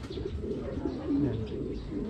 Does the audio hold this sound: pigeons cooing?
yes